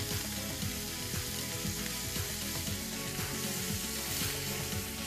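Food roasting uncovered in a pan, a dense continuous sizzle and crackle heard up close and loud throughout, with no speech over it.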